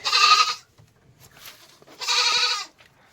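A goat bleats twice, loud and close, in a village livestock shed with buffalo and a bull tethered nearby; the two long wavering calls are separated by a short quiet gap.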